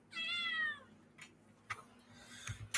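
An orange female cat gives one clear, drawn-out meow close by, followed by a few faint clicks and soft knocks in a quiet room.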